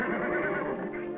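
Horse whinnying in a 1955 western TV episode, one brief shrill neigh heard close and fairly loud over a muffled, old-recording background.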